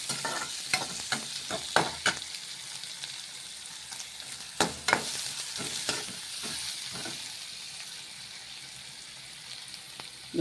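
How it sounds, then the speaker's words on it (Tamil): Onions sautéing and being stirred in a pan while cooking spinach masiyal, with a steady soft sizzle and several sharp scraping stirs, mid-level and close, with no talking. "இப்போ வெங்காயம் நல்லா வதங்கணுங்க"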